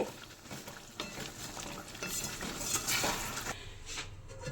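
Chicken kosha stirred and sautéed in a pan at home, with scraping spoon and utensil clatter over a steady frying sizzle, close and continuous.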